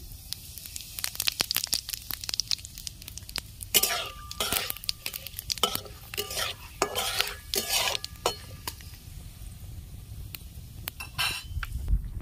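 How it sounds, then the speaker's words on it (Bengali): Dried red chillies and panch phoron hit hot oil in a wok, giving a few seconds of crackling, spluttering bursts with light metal clinks, then quieter faint sizzling. "দুটো শুকনো লঙ্কা আর 5 ফোড়ন দিয়ে দিচ্ছি।"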